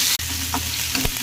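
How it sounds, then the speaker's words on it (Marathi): Onion, tomato and crushed garlic fry with cumin in a hot pan, a loud, close, dense sizzle with a quick stir and a couple of light utensil knocks. "कांदा भाजून झाला तर टमाटर टाकून घेऊ आणि लसूण"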